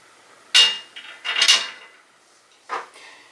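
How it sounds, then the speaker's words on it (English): A Sanus articulating TV wall mount bracket is screwed onto the back of a television, producing a few loud, close metallic clanks and knocks separated by short pauses. "Now we just need to take the screws that come in the kit and attach it to the actual television."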